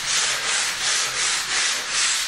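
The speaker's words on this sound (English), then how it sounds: "180 grit sandpaper. I'm just very gently going over" A sandpaper block loaded with 180 grit rubs lightly over wood floorboards by hand, close and loud, in steady back-and-forth strokes roughly every half second.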